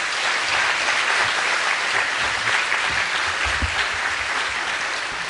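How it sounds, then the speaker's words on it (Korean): A church congregation claps steadily for a guest pastor, dense sustained applause filling the room at even loudness throughout. "우리 박수로 모시겠습니다"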